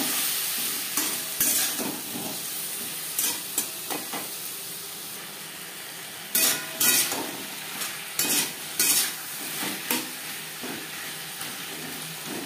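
Papaya stir-frying in a pan with turmeric, salt, ginger paste and green chili paste for a vegetarian data chorchori: a steady low sizzle broken by irregular scraping bursts of a spoon stirring against the pan.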